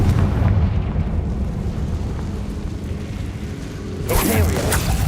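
Confringo fire spell from Hogwarts Legacy, a rumbling fiery roar building throughout, then a sharp bright explosive burst near the end, loud and close, with a voice heard briefly.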